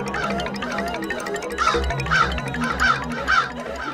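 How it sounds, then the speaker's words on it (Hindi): A crow in an animated Hindi Akbar and Birbal folk tale caws four times in a row over a steady, rhythmic low musical beat. "सुनने में ये कौवे की आम सी काव काव लग रही है"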